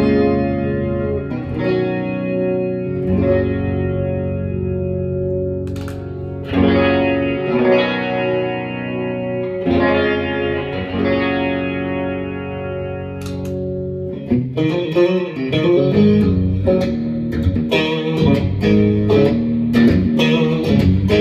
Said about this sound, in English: going through this Blues Junior amp is just so sweet